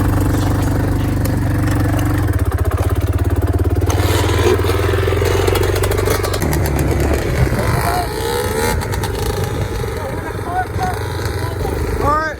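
A motorcycle engine runs during a ride, making a loud, steady roar with clattering mechanical noise that continues throughout, with voices talking over it.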